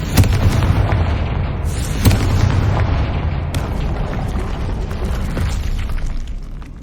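Confringo fire spell blasting in Hogwarts Legacy, a loud booming explosion with a sharp burst at the start and another midway, over a dense rumbling roar that stays heavy throughout.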